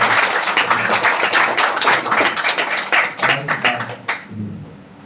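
A congregation claps together during a church Christmas service, a dense patter of hands that stays steady and then thins out and fades near the end.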